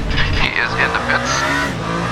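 A race car in Le Mans Ultimate slows into the pit lane late in the 24 Hours of Le Mans at Circuit de la Sarthe, its engine loud and close as the pitch falls, with faint tire noise.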